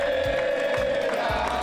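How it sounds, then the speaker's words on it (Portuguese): Palmeiras fans cheering and chanting, a sustained roar of a crowd with steady rhythmic thumps of drums or clapping beneath it, loud and continuous throughout. "Torcida palmeirense da região de boa, só tirando onda."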